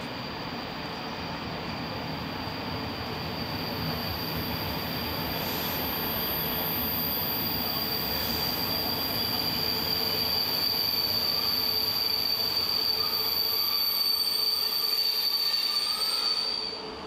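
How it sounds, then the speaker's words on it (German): An electric opening train on the newly electrified Halle–Kassel line rolls into Leinefelde station in the 1990s, with a steady, loud rumble of wheels and a sustained high metallic squeal that runs throughout before trailing off at the end. "Der Eröffnungszug rollt in den Bahnhof Leinefelde."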